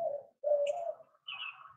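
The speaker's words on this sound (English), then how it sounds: "the birds singing" A bird, likely a pigeon or dove, gives a few short cooing and chirping notes close by in a quiet setting, with brief pauses between the calls.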